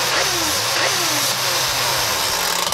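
A Nerf Zombie Strike Revreaper blaster running its mechanical vacuum firing system, a loud, steady motorised whirring drone with a low rumble that holds throughout, close up with no talking.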